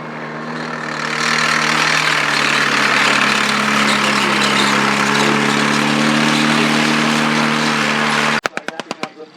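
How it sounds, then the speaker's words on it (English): A late-war WWII Sherman tank idles at an Ardennes armour display, its engine holding a steady, loud rumble with strong low harmonics for most of the run before a burst of sharp clanks and knocks near the end. "there we can see again another late war Sherman"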